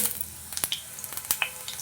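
Whole cumin seeds sizzle in hot mustard oil close by, a soft hiss punctuated by sharp sputtering pops and crackles at irregular moments.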